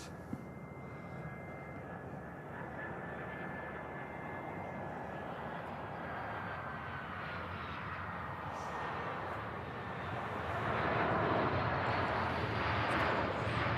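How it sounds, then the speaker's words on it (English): An Austrian Airlines Embraer 195 airliner arriving from Vienna at Manchester Airport in snowy weather gives a long, steady jet roar that swells louder near the end, heard from a distance with no voices. "an Embraer 195 coming in from Vienna with Austrian Airlines, flight 463"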